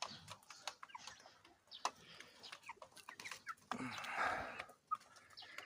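Chickens and young rooster chicks cluck and chirp outdoors, with short bird calls scattered throughout and a denser burst of clucking near the end, moderately close and without talk.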